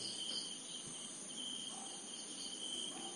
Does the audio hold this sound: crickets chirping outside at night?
yes